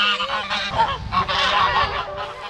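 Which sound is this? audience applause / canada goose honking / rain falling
canada goose honking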